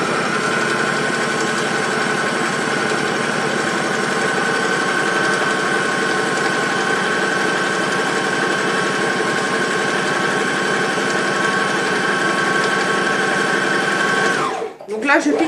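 Sewing machine stitching steadily around the outline of a fabric piece, a continuous close whirring hum that runs unbroken for most of the clip before stopping abruptly near the end.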